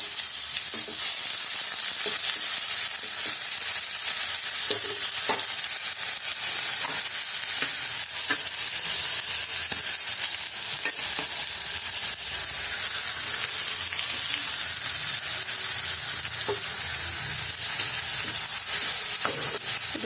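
Onion paste sizzles steadily in hot oil with cumin seeds and dried red chillies, a continuous close frying crackle with occasional stirring scrapes and no voices.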